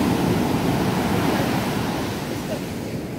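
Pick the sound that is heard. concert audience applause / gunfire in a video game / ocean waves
ocean waves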